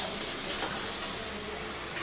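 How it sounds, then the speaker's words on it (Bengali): Turmeric and chili powder fry in hot oil in a pan, cooking down into a masala, with a steady soft sizzle and a few faint ticks from stirring. "লঙ্কার গুঁড়ো দেবো, দিয়ে যতক্ষণ না মশলাটা তেল ছাড়ছে ততক্ষণ কষবো"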